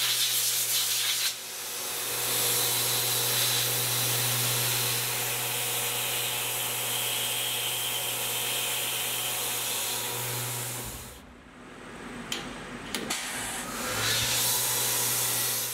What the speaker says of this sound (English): finishing with a little bit smaller quarter inch three flute variable flute Lakeshore Carbide, still at max RPM